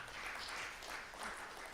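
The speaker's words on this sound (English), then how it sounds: "I just want you to give yourselves a clap, an applause for making it here" A crowd claps continuously, a dense wash of applause heard from within the room, moderately loud and steady.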